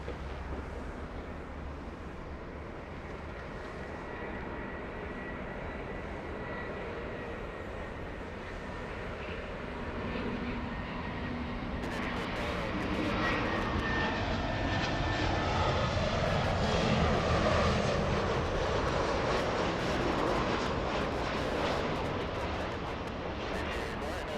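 An airliner engine drones steadily from inside the cabin during a flight over California, a broad rushing roar that swells louder partway through and keeps going without a break.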